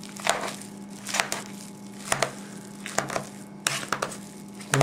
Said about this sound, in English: I'm just mashing these up now,